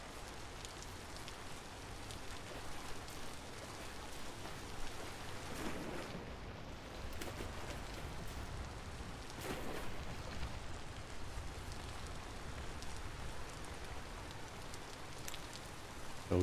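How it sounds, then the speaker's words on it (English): Rain falls steadily in the survival video game Vintage Story, a dense, soft hiss of drops with slight swells in intensity, heard alone without any voices. "So easy to lose track of things in the rain."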